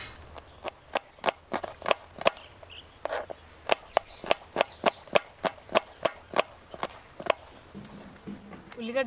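Onions being cut small with a knife on a board for a crab curry gravy, a fast run of sharp, close chopping taps, about twenty strikes over several seconds, with a quiet voice underneath.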